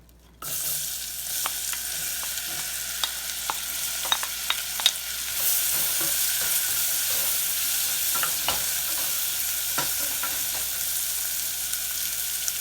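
Steady sizzling of onions frying in butter, with occasional stirring clicks and scrapes over the constant hiss.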